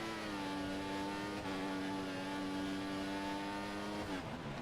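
A Formula 1 race car engine in F1 2014 holds full revs, a sustained high-pitched whine that stays steady and fairly faint, then dips briefly near the end.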